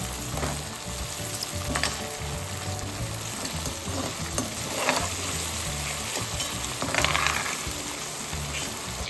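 Oil-coated cauliflower, potato and pea vegetables fry in a hot pan with a loud, dense, continuous sizzle, broken by occasional stirring and rustling bursts, heard close up with no voices.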